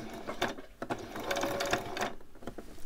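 A sewing machine stitches fabric for a homemade t-shirt in short, uneven bursts of rapid mechanical chatter, close and fairly quiet, pausing briefly between runs.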